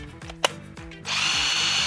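A cordless impact wrench runs in short bursts, loud and close, its motor whirring and hammering, then settles into a sustained run.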